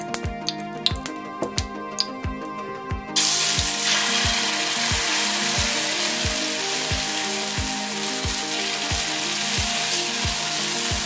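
Foxtail millet adai sizzles and crackles in oil on a hot dosa pan, a loud, steady frying hiss that swells sharply after a few seconds, with faint rhythmic ticks running underneath and no voices.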